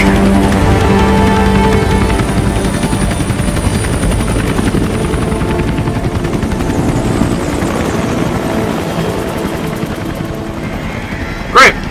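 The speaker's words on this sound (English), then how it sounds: "They took control of the chopper?" A helicopter in the video game Metal Gear Solid 5 thrums loudly and continuously with steady rotor chop, and a short sharp burst cuts in right at the end.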